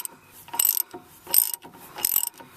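A ratchet wrench working on the lower mounting bolt of a car brake caliper, three quick bursts of rapid clicking separated by short pauses, close and distinct with no talk.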